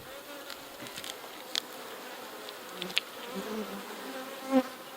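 Honey bees buzz softly around an open beehive with a brood nest, a steady low drone of many insects with occasional nearer passes close by, no voices.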